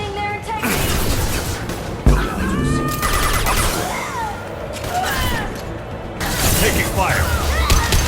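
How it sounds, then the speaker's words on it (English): Combat gunfire and weapon impacts in the video game Mass Effect 2, fast bursts with a sharp bang near two seconds, dense and continuous under voices, sound effects and score throughout. "Taking fire!"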